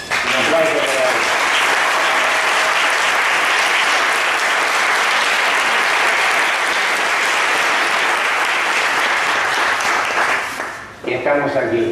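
Loud, dense applause from a lecture audience for Fabián Ceballos, a full room clapping continuously for about eleven seconds before cutting off abruptly as a voice begins speaking.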